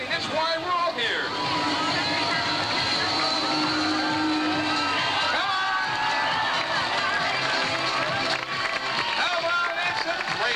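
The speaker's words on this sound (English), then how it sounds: "So everyone, let's cheer them in." A crowd at a state tournament cheers and shouts, a dense mix of whoops, voices and babble swelling continuously at a busy outdoor setting.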